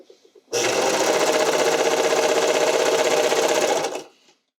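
Sewing machine stitching a stretchy figure skating skirt, one continuous fast rattling run of about three and a half seconds that starts abruptly after a few light clicks and winds down at the end.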